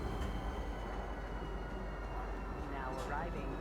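Train pulling into Central Station in the Star Citizen video game, a steady loud rumble of rolling carriages with a brief squeal near the end, while a voice talks over it.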